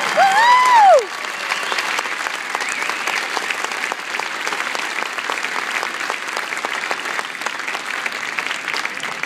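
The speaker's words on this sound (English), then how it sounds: "Give another big round of applause." Steady applause from a large crowd for a military band at a holiday flash mob, sustained clapping throughout, with a brief high whistle or cheer at the very start.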